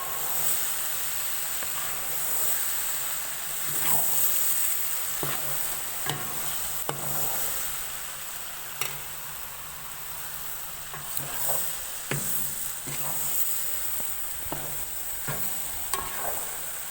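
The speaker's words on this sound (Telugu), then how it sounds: "ఇప్పుడు గుడ్లు వేసుకుందాం. దీంట్లో చిన్నగా కలుపుకోవాలి" Eggs added to frying masala for egg curry and gently stirred, a steady sizzle and hiss with intermittent scraping stir strokes throughout, close and moderately loud, no talk.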